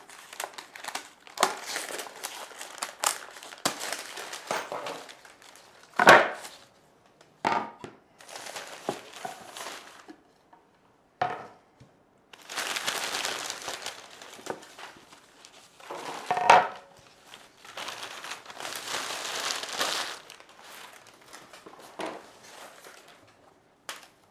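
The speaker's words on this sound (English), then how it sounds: "So we'll take off all the packaging, just a bit of paper and some straps." Paper and strap packaging is pulled off a drawer for a Janome Universal sewing table, with bursts of crinkling and rustling separated by quiet pauses and a couple of sharp knocks, close and fairly soft.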